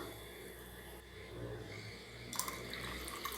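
Water pours steadily into a pot of jaggery for sweet kolukattai, a continuous close splashing trickle that brightens and grows louder toward the end, with no talking.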